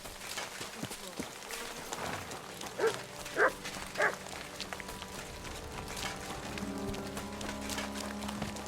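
A dog in the medieval world of Kingdom Come: Deliverance 2 barks three times in a quick row, moderately close, over ambient game music and background sounds.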